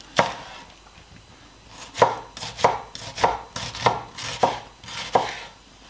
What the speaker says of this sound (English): We just cut it half and then like this, slice, julienne.